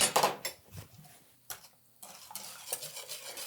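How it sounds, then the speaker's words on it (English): Butter stirred around in a pot while making a Guinness cake, giving several scraping, clinking spoon strokes against the pot with short pauses between them, close and fairly quiet. "we're going to put the rest of the butter in and stir it around"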